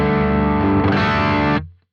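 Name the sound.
electric guitar with distortion bypassed, bridge stack amp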